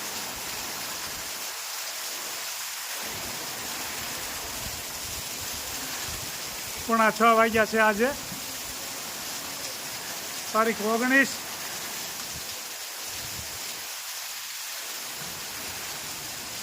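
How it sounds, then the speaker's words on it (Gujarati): Heavy rain pours during a storm in Chalala, a steady loud hiss and roar that continues throughout, with someone speaking briefly twice over it. "કડાકા ભડાકા સાથે વાવાઝોડા સાથે વરસાદ જોરદાર ચાલુ થઈ ગયો છે"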